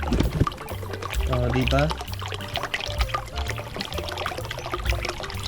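A Pedrollo water pump run from a small Thunderbox Spartan 500X power station sprays water in a steady, gushing splash, with people talking over it throughout.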